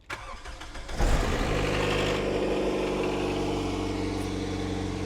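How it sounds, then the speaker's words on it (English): A Vauxhall Vectra with a bad exhaust starts up with a cranking burst, then settles into a loud, rough idle with a deep, throbbing rumble, heard close and alone. "it's time to do something about the exhaust on the Vectra because it ain't good"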